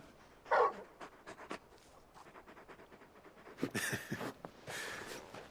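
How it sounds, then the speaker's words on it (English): Torgal, a large dog in Final Fantasy 16, pants close by in short breathy bursts with a few snuffles, then a louder run of rapid panting and sniffing near the end, with no talking. "You're just a big puppy, aren't you? A very big puppy."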